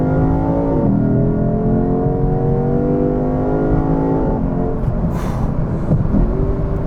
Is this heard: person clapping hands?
no